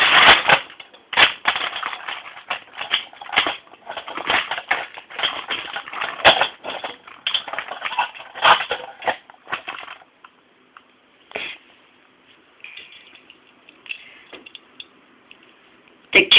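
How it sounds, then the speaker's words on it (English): A toy train crashes into a cafe, producing a long, loud crunching and clattering burst of breaking debris that tapers into scattered rattles and small impacts. "suddenly she couldn't stop in time, and then she crashed into it"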